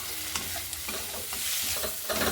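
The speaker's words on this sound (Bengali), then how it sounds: "মশলাগুলো সব একসঙ্গে ভালো করে একটু ভেজে নিয়েছি" Ground turmeric, coriander, cumin and black pepper fry and crackle in a pan, a steady close sizzle with soft stirring scrapes throughout.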